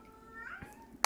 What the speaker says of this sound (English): my cat's saying hi again.